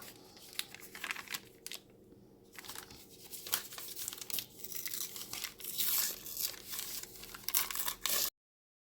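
Brown paper being torn by hand for a paper planner layout, a run of crinkling rips and crumples at close range, loud and continuous with brief pauses and no talking.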